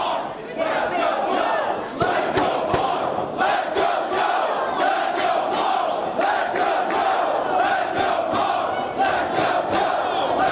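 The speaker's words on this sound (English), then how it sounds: "This 50-50 crowd once again voicing their opinion with that "Let's go Punk, let's go Joe" chant." A split wrestling crowd at a world title match in Dayton chants in two-part rhythm for two rival wrestlers, loud and continuous, with sharp claps and shouts punctuating the repeated chant throughout.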